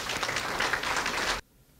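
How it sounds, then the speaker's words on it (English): Audience applause for visiting researchers at a student awards event, a dense burst of clapping that cuts off abruptly after a second and a half, leaving near silence. "I think we should give them a round of applause."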